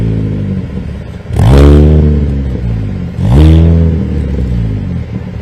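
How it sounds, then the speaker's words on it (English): Two loud, close revs from a race car engine at the Thruxton circuit, each a sharp climb and fall in pitch about two seconds apart, with a steady engine drone between them. "if we stand by the exhaust, we'll be able to hear and appreciate just how fantastic these cars sound"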